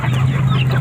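Chickens on a small farm raised on food waste and black soldier fly maggots, clucking close by in a short, steady burst with a low constant hum beneath.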